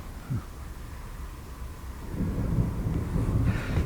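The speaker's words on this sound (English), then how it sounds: "you might hear some thunder booming." Low, rolling rumble of distant thunder that swells and grows heavier toward the end, with no voices.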